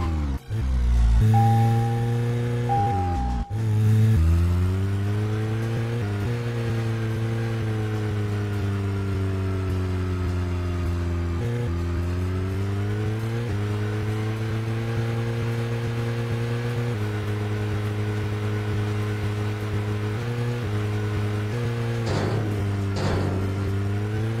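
Car engine in Deadly Premonition, a steady droning motor with a strong harmonic hum that rises and falls in pitch as it revs and shifts, loud and continuous for over twenty seconds with no one talking.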